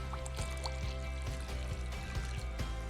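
Water trickles steadily into a tofu sauce of ketchup and vinegar, a soft continuous pour in a quiet kitchen with a few faint clinks.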